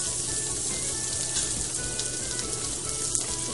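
Lamb lollipop chops hiss and sizzle steadily in a hot pan, a close, continuous frying crackle with no talk.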